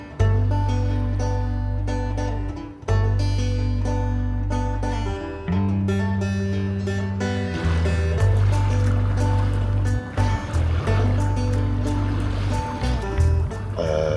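A boat's low, steady engine drone runs throughout at sea off Corfu, with a wash of water noise, briefly cutting out a few times.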